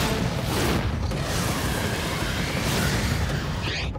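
A loud, dense roaring blast of a Gormiti cartoon fire attack that rumbles steadily for several seconds like a sustained fiery explosion, with no voices.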